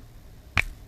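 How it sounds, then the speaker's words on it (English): A single crisp finger snap, close and sharp, stands alone against faint background hiss. "when you snap your fingers, I feel like that's kind of a little bit of a sassy maneuver"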